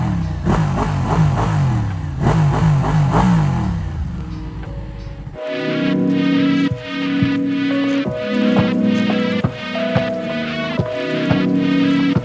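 Ducati Panigale 1199R superbike engine, first rumbling and revving with passing whooshes, then settling into a close, loud, sharp-edged idle punctuated by quick throttle blips and revs.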